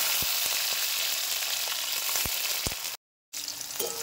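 Ingredients frying in hot white oil in a wok, a dense, loud continuous sizzle with a few sharp utensil knocks and a brief gap of silence.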